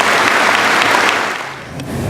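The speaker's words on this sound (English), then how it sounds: "Please join me in a round of applause" Loud crowd applause at a Barton graduation ceremony, dense clapping from a large audience that swells and then eases slightly toward the end.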